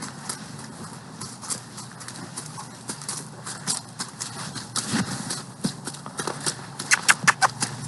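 Hooves clip-clop on hard ground as a horse walks during training at a ranch, uneven steps growing louder and closer toward the end, with faint background noise.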